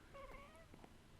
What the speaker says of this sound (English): Sorry if you can hear my cat meowing in the microphone.